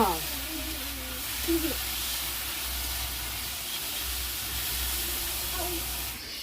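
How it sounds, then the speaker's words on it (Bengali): Potatoes and onions fry in a pan with a broad, steady sizzling hiss that fills the whole stretch, close and even, while brief voices speak over it at the start. "আলু হলো আর পেঁয়াজগুলো ভাজা হয়ে গেছে সেদ্ধ হয়ে গেছে"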